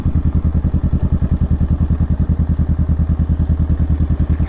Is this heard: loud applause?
no